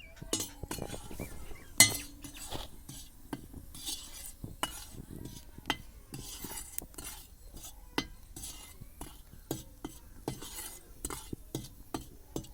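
Turmeric roasts in a pan while metal utensils stir and scrape it, producing quiet, irregular clinks and taps with one sharper knock, over a faint background hush.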